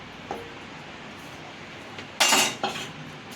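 A spoon knocks twice in a bowl while mixing chicken with chilli powder, turmeric, cumin powder, salt and garam masala: two short, close clatters in an otherwise quiet room.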